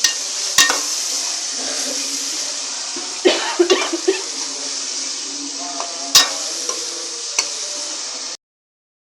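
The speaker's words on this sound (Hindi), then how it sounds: "आलू डालकर हम इसे अच्छी तरह से भून लेंगे।" Potatoes frying with onion and tomato in a pan as they are stirred, a steady sizzle with scattered scraping and clinking of the spoon, close and continuous before cutting off abruptly near the end.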